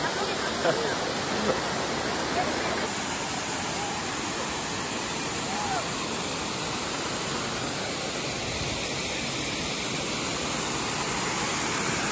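Waterfall in New Zealand rendered as a steady, dense wash of broadband rushing water, constant and unbroken for the whole stretch, with faint voices barely surfacing beneath the roar.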